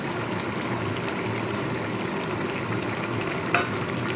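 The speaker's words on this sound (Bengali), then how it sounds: "আমি এখানে চিংড়ি মাছ যেটা ভেজে রেখেছি তেল সমেত তো এই চিংড়ি মাছটাকে এখানে দিয়ে দেবো" Fried prawns in their oil go into a pan with bottle gourd for kanta shukto, raising a steady, dense sizzle that holds evenly throughout, with one brief clatter near the end and no voices.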